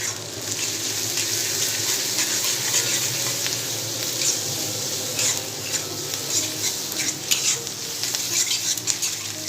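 Red chili paste frying with fried onions in a pan while preparing crispy baby corn: steady hissing sizzle with scattered crackles and pops, close and continuous, with no voices.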